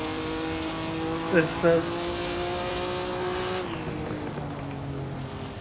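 A front-engined 1950s Alfa Romeo 158 Grand Prix racing car in the sim racing game Assetto Corsa drones steadily at high revs, with a brief tire squeal and gear changes, under a voice.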